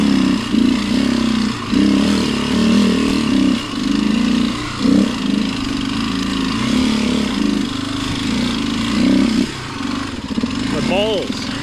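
A dirt bike engine revs hard on the throttle, a loud, close, buzzing drone that rises and dips in pulses with short breaks.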